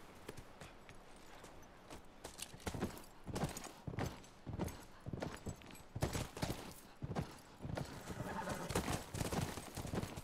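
Hooves clop in an uneven rhythm while horses neigh and snort in The Last of Us Part II, all fairly faint and unaccompanied by talk.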